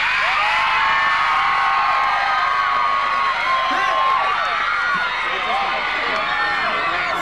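A large outdoor crowd at an Australian gospel music festival in Toowoomba screams and cheers at full volume, a continuous roar of high shrieks and whoops that fills the whole stretch.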